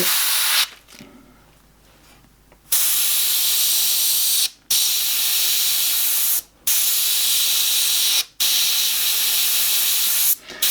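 An airbrush sprays paint in long steady hissing bursts to add texture to a painted skull, each burst broken by short pauses; close, loud and continuous with no talking.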